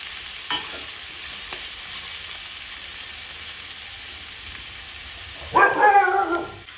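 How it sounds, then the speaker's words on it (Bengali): Quiet background for several seconds, then a loud burst of sizzling and stirring as rice and prawns fry in a pan near the end. "দেখো এইভাবে ভাজা ভাজা হয়ে এসেছে, কিন্তু আরও অনেকটাই ভাজা করতে হবে"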